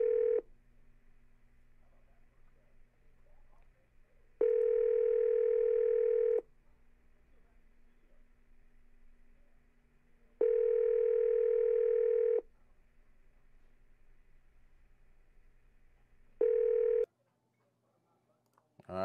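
A built-in phone dialer in a real estate CRM plays an outgoing call's ringing tone: steady tone bursts about two seconds long, separated by longer pauses and repeating several times over a faint background hum.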